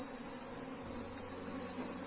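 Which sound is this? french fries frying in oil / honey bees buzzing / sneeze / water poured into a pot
honey bees buzzing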